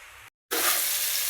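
Sweet pumpkin with dried shrimp shutki sizzles loudly in a frying pan, a steady bright hiss that cuts out briefly before surging back even stronger.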